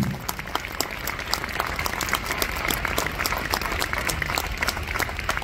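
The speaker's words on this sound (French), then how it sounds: "Vous pouvez les applaudir." Steady applause from a large audience at a rally marking one year since October 7, 2023, clapping warmly for families of hostages; dense and continuous throughout with a faint murmur of voices.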